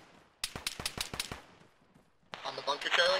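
Seven sharp, evenly spaced gunshots ring out in a military video game firefight, followed after a short pause by a person speaking.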